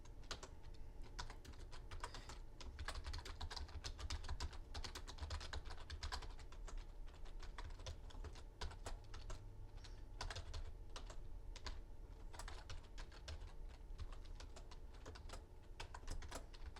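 Steady typing on a computer keyboard, rapid clicking keystrokes continuing throughout, close and fairly quiet, with no voices.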